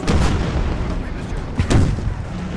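Musket volleys and artillery fire in the Total War mod Imperial Splendour, set in the French and Indian War, form a loud, continuous battle roar with heavier booming bursts at the start and again near the end.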